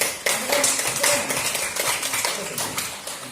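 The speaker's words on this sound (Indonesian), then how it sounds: "Coba, yang lain, cepat, tepuk tangan" Students clapping together in a classroom, a burst of quick, uneven hand claps that is close, loud and steady throughout, with no talking.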